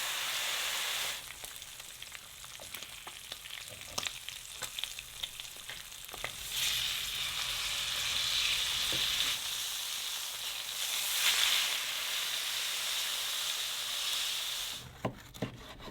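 Butter sizzles and fries in a pan at an outdoor wilderness camp, a steady crackling hiss held close with occasional scrapes and clinks over it.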